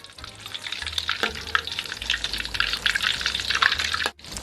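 Crab omelette cooks Jay Fai style in plenty of hot oil, a steady loud crackling sizzle that runs on without a break and cuts off abruptly near the end.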